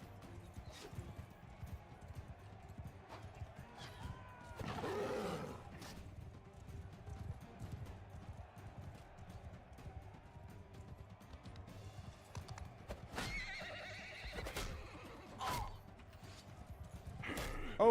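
Horses gallop in a video game, their hooves clip-clopping faintly in scattered bursts against quiet background game sounds.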